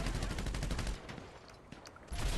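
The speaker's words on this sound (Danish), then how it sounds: "Hvem er det, der står og skyder ved os?" Gunfire in the GTA Online video game: a dense rapid burst of shots in the first second, a sparser lull, then heavy firing resuming near the end, loud with no speech.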